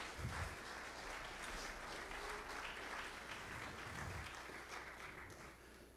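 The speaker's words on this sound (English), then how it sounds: "Give God a hand clap of praise today." Steady applause from a church congregation, continuous clapping that holds even throughout, heard from a moderate distance.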